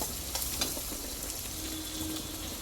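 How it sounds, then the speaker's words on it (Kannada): Egg fry masala cooks in a pan, giving off a soft, even sizzle with a few faint knocks near the start. "ಚೆನ್ನಾಗಿ ಒಂದೆರಡು ನಿಮಿಷ ಫ್ರೈ ಆಗಲಿ"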